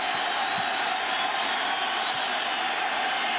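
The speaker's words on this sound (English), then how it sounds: "Listen to the fans cheering him down there." A baseball stadium crowd at a 1998 Indians ALCS playoff game roars and cheers in a steady, dense wash of distant fan noise with no clear pauses.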